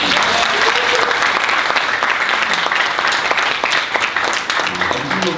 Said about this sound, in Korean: 심상정 대표님께 뜨거운 박수 한번 부탁드립니다.